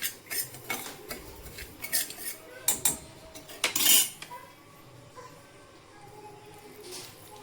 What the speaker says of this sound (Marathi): तर हे तूप टाकून मस्त लालसर रंग येईपर्यंत रवा भाजून घेऊ.